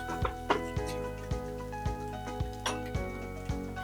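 A utensil taps and scrapes in a pan while red chili pepper, black pepper and turmeric are stirred, giving a regular rhythm of about ten light knocks over a low background hum.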